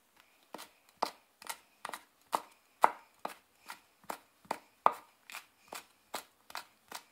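Knife chopping vegetables on a cutting board for gochu japchae, a Chinese-style pepper stir-fry, in a cooking exam practice: steady, evenly spaced crisp chops, about two per second, close and clear with no talk.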